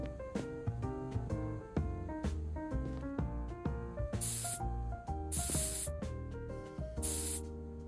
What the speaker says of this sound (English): So we got a spray can, which I think allows you to change the color of the wall.